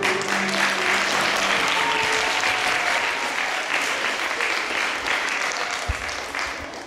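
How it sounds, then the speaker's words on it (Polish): Loud, sustained audience applause fills a school assembly marking the first day of spring, a steady wash of clapping that continues unbroken and fades slightly toward the end. "Prosimy o gromkie brawa."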